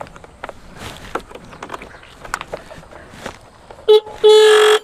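A car horn gives one short toot and then a longer sustained blast at the end, loud and close, following a stretch of faint clicks and handling noises.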